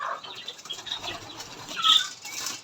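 Pigeons flap their wings in a poultry yard, a soft rapid fluttering with a louder burst of wingbeats near the end, close by and with no talk.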